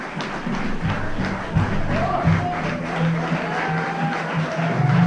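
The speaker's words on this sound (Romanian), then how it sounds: "Publicul nostru aplaudă." Studio audience at a sitcom rehearsal applauding, a steady wash of clapping with crowd murmur and some voices mixed in, fairly loud and continuous throughout.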